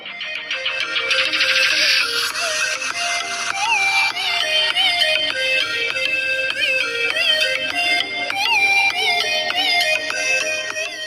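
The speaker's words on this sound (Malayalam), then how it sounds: "ഇതിന്റെ സൗണ്ട് ക്വാളിറ്റി എത്രമാത്രം ലൗഡ് ആണ് എന്നൊന്ന് നമുക്ക് ടെസ്റ്റ് ചെയ്ത് നോക്കാം" A bright electronic ringtone melody plays steadily from the single speaker of a Vivo Y22s smartphone, moderately loud and continuous, with no talking.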